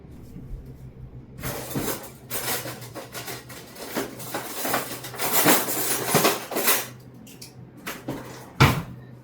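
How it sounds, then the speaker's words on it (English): Pumpkin pie filling whisked in a bowl, a run of clinking, scraping strokes against the bowl that comes in uneven bursts and stays close and fairly loud, with no talking over it. "hopefully it'll break up as we continue to whisk everything else in"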